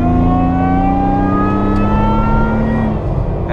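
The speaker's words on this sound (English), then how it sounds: "You got the whine of the supercharger, you have the boiler exhaust." Supercharged Toyota FJ Cruiser revs hard up close, engine roar with rising then falling pitch and a thin supercharger whine riding on top, alone and loud.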